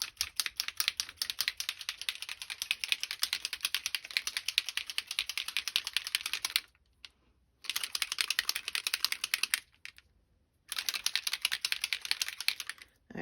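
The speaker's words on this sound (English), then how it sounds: "I hadn't shaken this one up, so let me shake it up." A Fresh Balsam scented spray bottle is shaken in fast, even rattling bursts, three runs separated by short pauses, close and alone.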